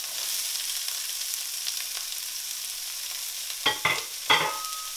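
Onions, celery and carrot sizzling in a hot pan during a Tuscan beef stew, a steady faint frying hiss with two sharper bursts near the end as more vegetables hit the oil, no talk.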